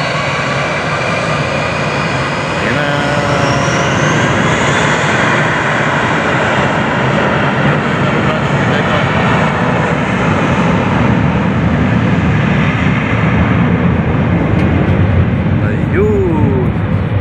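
An airplane taking off at Corfu International Airport, its engines a loud, steady roar that swells and holds for the whole stretch, with voices chatting faintly underneath.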